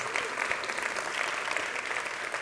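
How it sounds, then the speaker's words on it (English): An audience at a conference welcome address breaks into applause, with dense, continuous clapping from a crowd at moderate loudness and no talk over it. "Let's give them a round of applause."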